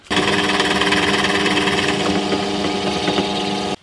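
Power drill boring an 8.5 mm hole through a handmade guitar body, a loud, steady buzzing whine that starts abruptly and runs for several seconds before cutting off.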